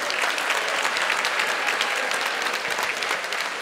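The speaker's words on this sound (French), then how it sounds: "on peut l'applaudir, Mme Lamontagne." Loud, dense applause from a crowd at a municipal centennial ceremony, honoring the mayor, steady and continuous throughout without a break.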